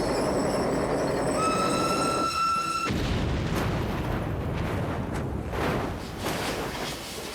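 An old train rolls along with poorly working brakes, its wheels squealing in sustained high shrieks over a loud rumbling clatter, then the squeal cuts out into heavy rolling noise with scattered knocks and thumps.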